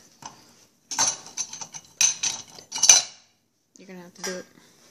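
Metal clanks and rattles come in short bursts as an Expert Chef potato ricer is opened, its hinged parts clicking and knocking nearby with no talk.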